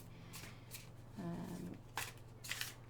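Tarot cards are riffled and shuffled close by in a few short bursts, a soft papery flutter followed by crisp taps, in an otherwise quiet room.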